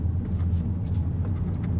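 A 2022 Honda Civic Sport driving, its engine and road noise a steady, close low rumble that stays even throughout with no talking.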